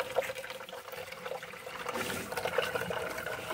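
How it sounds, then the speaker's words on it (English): Water runs through an off-grid rainwater catchment system as its pump pushes flow, a soft continuous trickling and splashing, faint and close with no talking. "There it is, already pushing water."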